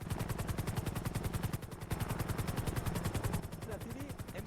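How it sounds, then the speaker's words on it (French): A helicopter overhead, its rotor pulsing in a rapid, steady chop that holds loud and close throughout, with voices shouting nearby at the end. "Il y a l'hélico."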